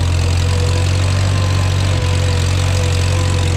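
An old Farmall B tractor engine idles close by with a steady low drone and a slightly uneven, rich-running throb, plus a brief hitch midway.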